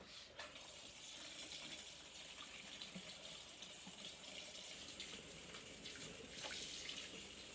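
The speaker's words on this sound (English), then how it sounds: "I'm just going to start rinsing some cold water over them so I can at least touch them." Cold tap water runs steadily into a sink for rinsing, a continuous close hiss and splatter that holds an even level throughout with no talking.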